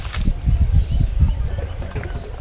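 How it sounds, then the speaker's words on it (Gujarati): Water pours into a clay pot set out for sparrows to drink from, a close, steady gurgling splash with uneven surges, with no voices over it. "હવે આપણે આની અંદર પાણી વેડીશું."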